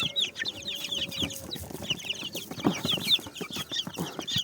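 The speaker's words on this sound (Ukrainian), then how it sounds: "Оце що півень легорн." A Leghorn rooster clucks repeatedly at close range in a coop with young chickens, a busy run of short, chattering calls with one longer drawn note early on.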